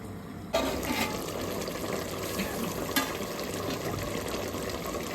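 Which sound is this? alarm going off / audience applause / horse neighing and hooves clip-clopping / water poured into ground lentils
water poured into ground lentils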